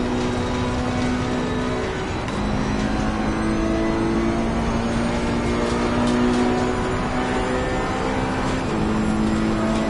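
A Ferrari race car engine in the racing game Assetto Corsa Competizione roars steadily close up, revving through the gears with tonal whine and brief tire noise, alone with no talk.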